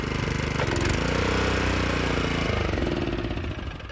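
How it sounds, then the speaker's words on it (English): The small gas engine of a Graco LineLazer 3900 line striper runs steadily with the choke off, a smooth, even hum and a faint rattle, holding a constant pace throughout with no voices. "You can hear the engine throttle up a bit better, and it's more stable."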